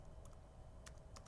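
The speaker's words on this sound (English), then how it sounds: "So I can type rm" Several quick keystrokes on a computer keyboard while a delete command is typed at a command line, sharp clicks in two small clusters over a steady background hum.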